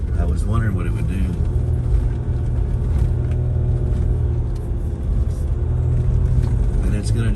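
Stock 2021 diesel Jeep Gladiator Rubicon climbing a trail in 4-wheel high, towing an offroad trailer, its engine lugging at low revs in a steady, deep, close rumble, with a voice talking over it.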